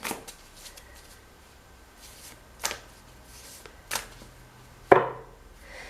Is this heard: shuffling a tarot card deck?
yes